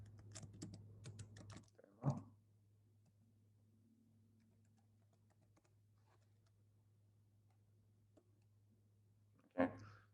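A short flurry of close computer keyboard typing as a git command is entered, followed by a long quiet hum and then one more sharp key clack near the end.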